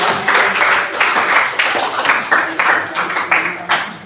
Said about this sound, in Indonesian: Oke, tepuk tangan untuk Diki.